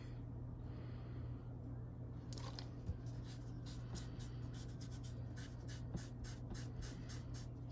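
A cotton ball soaked in Undo sticker remover rubs tape whiteout off a planner page, making a faint, quick scratchy scrubbing in short repeated strokes over a low background hum, with no speech.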